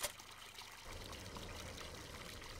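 Water pouring into a tank in Farming Simulator 17, a steady game-audio trickle and splash that starts abruptly under a second in and then runs evenly and moderately loud to the end, with no talk.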